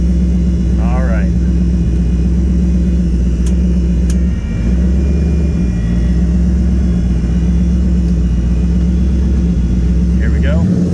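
A Nissan 300ZX IMSA widebody with a VK56 twin turbo engine rumbles loud and steady at close range after starting, a deep idle drone with brief squeaks and clicks.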